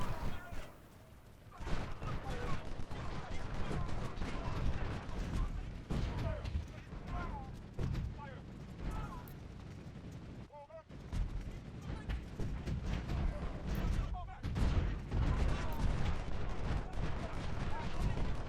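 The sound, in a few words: infantry gunfire in Ultimate General: Civil War video game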